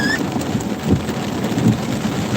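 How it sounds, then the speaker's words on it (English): A heavy rainstorm in Scotland heard near an open window, with a steady dense hiss of rain and low rumbles of thunder swelling faintly beneath it. "you hear that thunder?"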